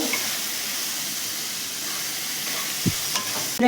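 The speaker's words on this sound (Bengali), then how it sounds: "এর ভেতরে আমি আদা বাটা দিলাম আদার কাঁচা গন্ধটা যাওয়া পর্যন্ত এটাকে খুব ভালো করে কষবো" Ginger paste frying and being stirred in a pan gives a steady sizzling hiss, with a faint scrape of the spoon near the end and no voice over it.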